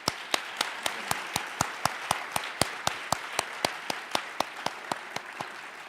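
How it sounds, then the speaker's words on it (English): Steady, evenly spaced claps at about four per second ring out alone and fairly faint, more like a single pair of hands keeping time than a full crowd, at a Martin Luther King Jr. celebration event. "Let's give them a great round of applause."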